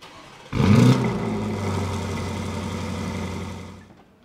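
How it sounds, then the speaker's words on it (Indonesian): A Porsche Cayenne Turbo GT with a titanium exhaust starts up loudly after a brief quiet moment, then settles into a steady, deep idle rumble close by, without speech. "Knalpot, ini dari titanium juga knalpotnya, suaranya juga"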